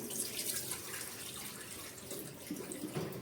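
Water poured off soaked rice for dosa batter, a steady close splashing and trickling stream that runs without pause, quiet overall.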